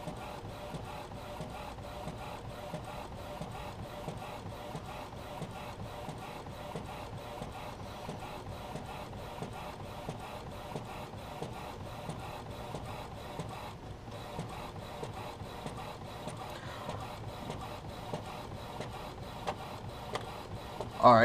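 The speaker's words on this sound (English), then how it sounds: "So that comes and prints out with the printer." A sublimation ink photo printer runs steadily for about twenty seconds, giving off a rapid rhythmic mechanical ticking over a constant whirring hum at moderate, close loudness, with no voices.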